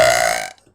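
A single short, loud burp with a tonal, voiced quality cuts off abruptly after about half a second.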